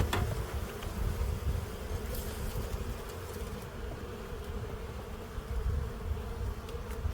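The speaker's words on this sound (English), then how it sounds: "Bees off the top bar again." Honey bees swarm around an opened top-bar hive in spring, their steady close buzzing filling the whole stretch with a few brief handling knocks.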